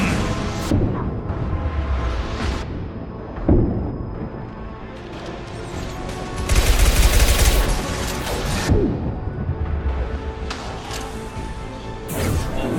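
Weapon fire from Mass Effect bursts out in loud volleys with crashing impacts, a dense barrage peaking midway and recurring in sharp strikes, with no talk.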